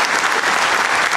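Dense, steady applause from a crowd at a school graduation party, honouring the teachers, heard close and loud throughout.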